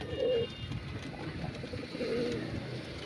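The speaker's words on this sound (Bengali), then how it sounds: "এই যে পায়রা, এই যে একটা বড় পায়রা" A large Punjabi Malwai pigeon coos in two short close bursts, separated by a quieter stretch of low background noise.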